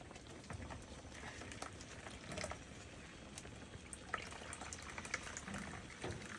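Kitul toddy is strained and poured into a container in a quiet outdoor setting, a faint, steady liquid trickle with soft splashes and small clicks, with no voices.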